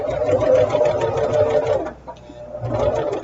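A sewing machine stitching a quilt up to the pins, a close, rapid mechanical whir that runs continuously, breaks off briefly, then starts again.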